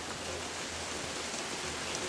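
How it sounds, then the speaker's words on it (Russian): Light drizzle falls outside on a May evening, a soft, even hiss of fine rain with no voices. "Сейчас для разнообразия послушать, как моросит дождь"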